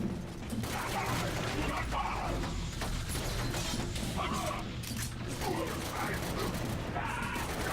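Gunfire in The Bureau: XCOM Declassified, a dense run of shots and mechanical clatter going steadily without a break under a loud game soundscape, with voices talking briefly through it.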